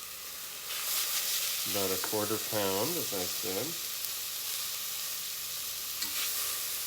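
Ground meat sizzles in a pan of softened onions over medium-high heat for a Japanese nikujaga, a steady frying hiss running throughout while a person talks over it.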